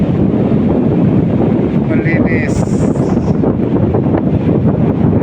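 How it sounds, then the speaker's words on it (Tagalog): Strong, steady wind roars and buffets the microphone along with a rushing sea backdrop, while a person speaks briefly underneath. "malakas ang hangin nga lang"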